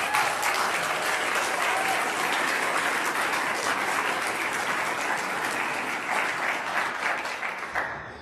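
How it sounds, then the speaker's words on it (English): An audience at a junior high school band concert fills the hall with steady, dense applause that holds for several seconds and then tapers off. "can you give them a round of applause?"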